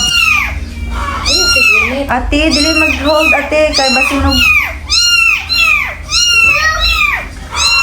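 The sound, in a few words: cats meowing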